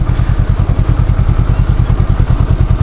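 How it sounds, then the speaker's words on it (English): A Honda Rebel 500 motorcycle engine runs steadily close by, with a deep, rapid, even thumping beat that stays loud and heavy throughout, and no one speaks over it. "you can hear the power on this thing, and it sounds good."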